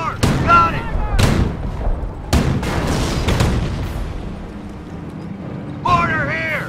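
Mortar fire on a Company of Heroes battlefield: several sharp, loud booming impacts come in quick succession, with shouted unit voices and combat noise between the blasts.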